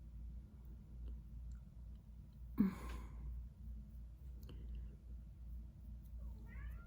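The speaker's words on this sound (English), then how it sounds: "I can't do anything about her meowing." A single short cat meow in a quiet room, faint and brief, heard over a low steady background hum with no talking.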